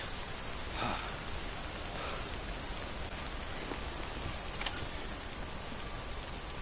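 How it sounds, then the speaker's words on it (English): Steady rain pours down in the video game Death Stranding, a constant hiss of raindrops on surfaces at even loudness throughout, with a few faint knocks and no voices. "Recover your cargo, then find shelter from the rain."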